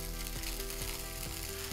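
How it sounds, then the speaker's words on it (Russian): A 3D-printed squid frying in a pan, giving a steady, close sizzle with faint rhythmic mechanical clicks running through it, with no voices. "Мы сейчас снимем его со стекла и обжарим на сковородке"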